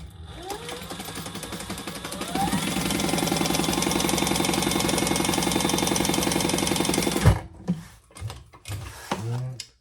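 Sewing machine stitching one side of a messenger bag closed, a rapid steady mechanical chatter for several seconds, then stopping with a few handling clunks.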